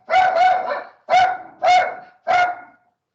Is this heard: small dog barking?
yes